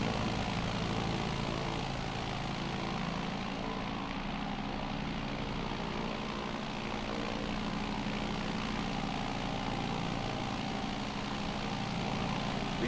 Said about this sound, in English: I'm flying a smaller plane around my big plane, which is itself a small plane.